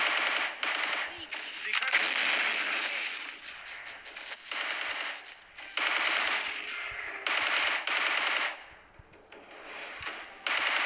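Gunfire from the video game Desert 1943 crackles in rapid automatic bursts, broken by brief pauses, mixed loud and close.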